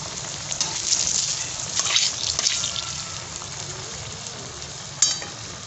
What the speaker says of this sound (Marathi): हे बघा तळायला लागले आता वडा पलटी मारून घ्यायची